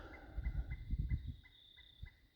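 Soft, low clucking and gobbling from fowl, a few quick bursts at moderate distance, fairly quiet.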